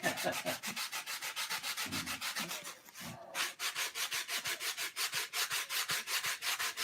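Rhythmic back-and-forth rasping of a sanding block on wood, close and steady, with a short pause midway before the strokes resume.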